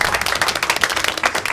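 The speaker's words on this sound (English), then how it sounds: "Give her a round of applause, guys." Applause from an office crowd cheering a mentalist, a dense patter of many hands clapping at once, steady and fairly loud from start to finish.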